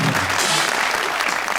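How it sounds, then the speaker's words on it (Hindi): A TV talk show studio audience breaks into loud, dense applause, a thick roar of clapping that stays strong and close for the whole short burst. "अदनान भाई के लिए फिर भी तालियां।"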